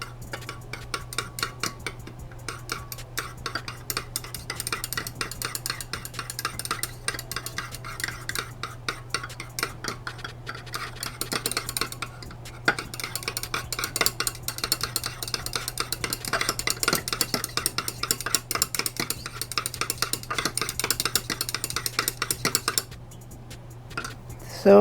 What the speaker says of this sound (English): So we are going to keep adding while mixing gently.